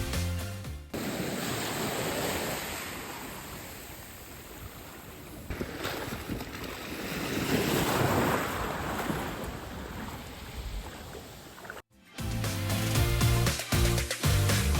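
Caribbean Sea waves wash onto Forti beach in Curaçao in a continuous rushing surf under heavy wind buffeting the microphone, swelling and easing before a brief cut to similar windy shore noise.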